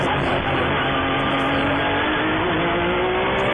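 FARA prototype NG race cars howl around a road course in a steady, loud engine drone with a gently rising pitch, as if passing near the microphone.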